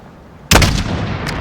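A single rifle shot in the Call of Duty Modern Warfare video game, a sudden loud sharp crack followed by a booming rumbling echo that fades slowly, with a faint second click near the end.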